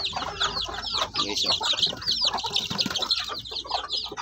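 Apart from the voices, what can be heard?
two-week-old Shamo Aseel native chicks peeping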